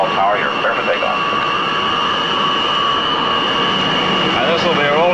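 A jet airliner's engines roar steadily and loudly with a high whine as it begins its takeoff roll, with a voice speaking briefly over the noise.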